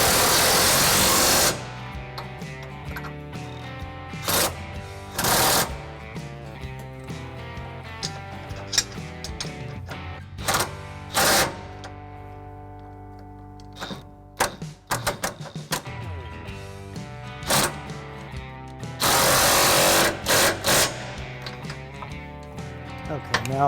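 A power tool drives trailer hitch bolts on a 2014 Chevy Silverado 1500, with loud bursts of whirring and ratcheting separated by quieter handling sounds, close by.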